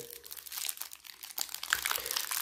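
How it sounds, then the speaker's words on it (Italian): Thin transparent plastic packet of Adrenalyn XL 2020-2021 football trading cards being torn open, a close, quiet crinkling and rustling in uneven bursts that grow louder toward the end. "troviamo la bustina trasparente che contiene le nostre carte andiamo ad aprire"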